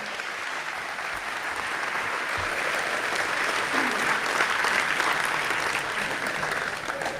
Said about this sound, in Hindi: इसके लिए जोरदार तालियां बजाइए विष्णु सक्सेना के लिए।